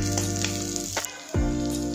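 Chopped green chillies and onions sizzling in a pan for matar paneer, a loud steady frying hiss with a few stirring knocks and a brief dip before the sizzle swells back.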